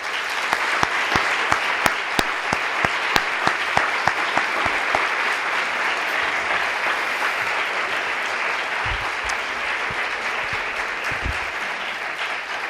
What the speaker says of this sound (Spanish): pido un fuerte aplauso para todo el equipo del centro